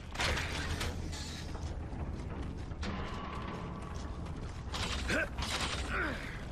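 A heavy door mechanism in the Gears of War: Judgment video game grinds and creaks open in a wharf district setting, a continuous mechanical groan with ratcheting clatter over dense background noise and no speech.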